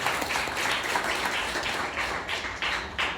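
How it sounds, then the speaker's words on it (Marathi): An audience at a student patriotic event in Vengurla gives steady applause, with dense, even clapping at moderate loudness throughout. "वेताळ प्रतिष्ठान या मंडळींसाठी जोरदार टाळ्या देऊया"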